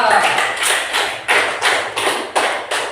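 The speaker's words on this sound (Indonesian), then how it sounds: "Tepuk tangan untuk Mawa" A school class claps for a classmate during a floor gymnastics forward-roll lesson: several loud bursts of group clapping in a loose rhythm, close by, with some talking around them.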